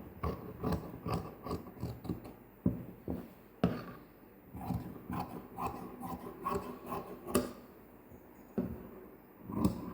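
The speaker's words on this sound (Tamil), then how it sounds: "இப்போது இந்த ஆம்கோல் இது எல்லாத்தையும் நம்ம கட் பண்ணி எடுத்துருவோம்" Scissors cut through blouse fabric along the armhole with a steady run of crisp snips and rasping fabric strokes, close and fairly loud, with no talking.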